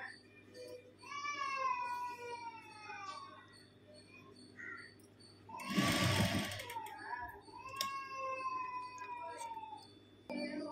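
A sewing machine stitching a handbag runs in a short, loud burst near the middle, set between long, wavering cries that sound like meowing or voices, in an otherwise quiet room.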